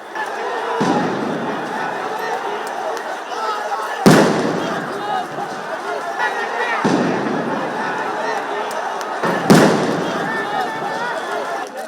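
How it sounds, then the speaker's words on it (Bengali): Police sound grenades going off at a street protest, several sharp blasts at intervals over the continuous roar and chatter of a crowd. "একে একে বেশ কয়েকটি সাউন্ড গ্রেনেড নিক্ষেপ করে সমাবেশ ছত্রভঙ্গ করে দেয় পুলিশ।"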